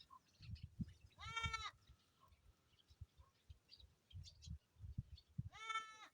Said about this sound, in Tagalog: Ay, yung isang kambing namin,